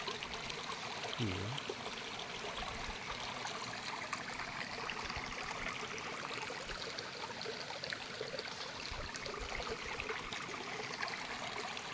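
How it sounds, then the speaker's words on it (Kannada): Water trickles steadily out of the sluice of a stone tank, a soft, continuous babbling flow that stays faint and even throughout with no talking over it. "ಇದರಿಂದ ನೀರು ನೋಡ್ತಾ ಇರ್ಬೋದು ಜುಳು ಜುಳು ಹರಿತಾ ಇದೆ ಇಲ್ಲಿ"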